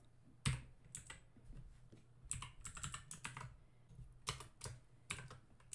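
Computer keyboard typing code, a steady run of soft, close key clicks in irregular bursts with brief pauses, quiet and alone with no voices.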